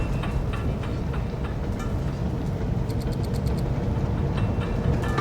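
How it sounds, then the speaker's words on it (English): A cargo train pulls out of a station by an industrial area in the city-building game Cities Skylines 2, a steady low rumble with faint rhythmic clicking of wheels over track, continuous and fairly close. "Here we have my train"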